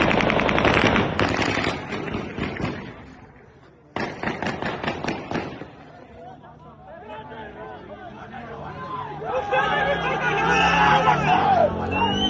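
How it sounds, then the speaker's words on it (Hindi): Recorded footage of a shooting targeting a Pashtun political leader: loud rapid bursts of gunfire at the start and again after a brief drop, followed by agitated shouting and crowd voices rising toward the end. "ये रहा वो वीडियो जिसमें जब ये गन शॉट्स मारे गए हैं"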